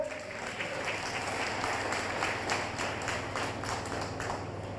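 An audience at a Hindi religious discourse claps in response to a saint's question, a steady, moderately distant wash of many hands with no voices on top.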